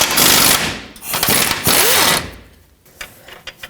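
A wrench works loose the 19mm nut on a control arm bolt of a 2012-2017 Toyota Camry, with rough metallic scraping and ratcheting bursts, then a few sharp clinks as the nut comes free.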